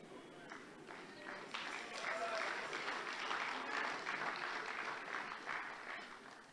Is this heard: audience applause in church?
yes